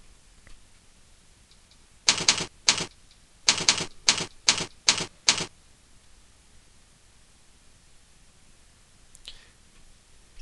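A password typed on a computer keyboard: a quick burst of seven or eight crisp key clicks in an uneven rhythm, close and clear against a quiet room, followed by one faint click later.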